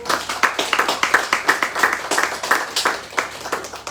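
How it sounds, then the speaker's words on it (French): A small audience at a business incubator event claps for a speaker. The separate hand claps fall at a fairly regular rhythm, close and moderately loud, over about four seconds. "On peut applaudir pour lui, s'il vous plaît"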